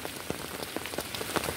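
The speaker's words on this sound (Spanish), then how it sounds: "El llover sigue." Rain pours down steadily during flooding on a wet morning, a dense, constant patter broken by scattered louder drops hitting the surface nearby.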